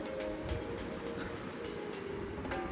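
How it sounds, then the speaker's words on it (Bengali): A train running along a nearby railway line, heard as a low steady rumble with faint rhythmic clatter at a distance, with no talking. "ওপাশ দিয়ে ট্রেন লাইন, ট্রেনটা যাচ্ছে এখন।"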